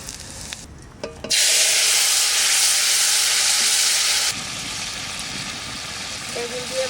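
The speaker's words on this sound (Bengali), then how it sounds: "সর্ষের তেল দিচ্ছি, ফোড়ন দেবো, জিরে দিচ্ছি।" Cumin seeds hit hot mustard oil and burst into a loud, dense sizzle that holds steady for about three seconds, then settles into a quieter continuous frying hiss. No one speaks over it.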